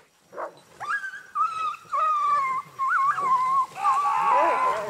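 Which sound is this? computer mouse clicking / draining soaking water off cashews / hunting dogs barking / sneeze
hunting dogs barking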